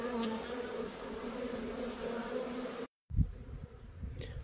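Honeybees buzzing and flying around hives at an apiary in April, a steady dense drone of many wings close by, broken by a brief gap and followed by fainter, scattered buzzing.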